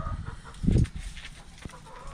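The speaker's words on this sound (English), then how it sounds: "Well, there's one chicken out." Backyard hens cluck softly in their enclosure, a short burst of low clucking standing out once amid quiet farmyard ambience, with no talking.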